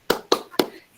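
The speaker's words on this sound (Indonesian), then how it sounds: "Nah, tepuk semangat." Three sharp, evenly spaced hand claps of a classroom spirit clap, close and crisp, each with a short decay, with no talking over them.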